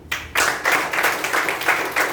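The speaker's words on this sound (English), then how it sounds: "Then you should all give me a round of applause." An audience breaks into applause at a youth leadership programme meeting, a dense burst of many hands clapping that swells in repeated surges and carries on steadily throughout at a fairly loud level.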